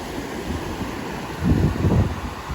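Wind-driven waves from Tropical Storm Elsa wash along a shallow stretch of Southwest Florida coastline, a steady broadband rush with wind buffeting the microphone and two louder surges of surf near the end.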